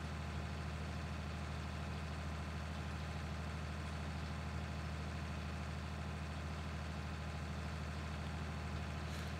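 A tractor engine idles in the Farming Simulator 19 video game with Grimme equipment, a steady low, even rumble that holds constant throughout, with no talk.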